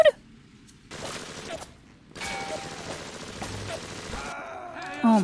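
Machine gun fire in Bioshock Remastered, two sustained bursts of rapid shots separated by a short pause, moderately loud, with brief vocal sounds at the start and end.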